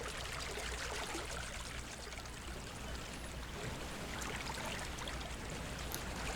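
Waterfall in the Second Life game world close by sends up a continuous soft rush and hiss of falling, spraying water, steady and fairly quiet with no voices.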